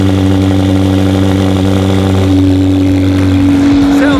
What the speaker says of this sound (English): we gotta do a cold start. 720 with the unobtainium exhaust and downpipes